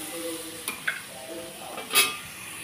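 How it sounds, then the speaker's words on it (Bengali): Potatoes fried and turned in oil make a faint sizzle, with a few light clinks and scrapes of a utensil and a brief louder clatter near the end. "এই আলুগুলো লাল করে উল্টে পাল্টে আমি ভেজে নিয়েছি, এখন নামিয়ে নেব"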